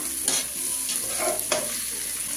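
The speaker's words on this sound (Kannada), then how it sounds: "ಮಶ್ರೂಮ್ನ ಹಾಕಿದ್ಮೇಲೆ ಸ್ವಲ್ಪ ರಫಾಗಿ ಆಡ್ಸೋಕ್ಕಿಂತ ಈ ರೀತಿ ನಿಧಾನಕ್ಕೆ ಆಡಿಸ್ಕೊಳ್ಳಿ." Mushrooms frying in a pan, a bright continuous sizzle with a few soft spatula strokes as they are turned slowly and gently.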